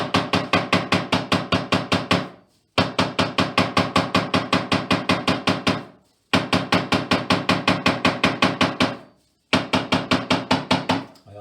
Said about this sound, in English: we're going to pound this down with a leather hammer